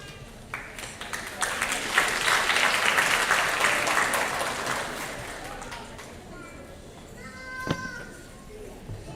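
A crowd at an elementary school moving-up ceremony applauds students receiving certificates, a full swell of clapping that peaks and slowly fades, with voices and a child's cry mixed in.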